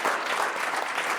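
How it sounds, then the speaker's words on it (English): Audience applause at a school district board business meeting, a dense, steady wash of many hands clapping throughout, fairly close and full, with no voices over it. "if we could just give him a round of applause"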